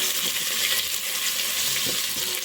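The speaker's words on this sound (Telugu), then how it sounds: "పుదీనా, కొత్తిమీర కూడా నూనెలో బాగా మగ్గనిస్తే మగ్గిపోద్దండి" Mint and coriander leaves frying in hot oil, a continuous soft sizzle with faint stirring scrapes, steady and close, no voices.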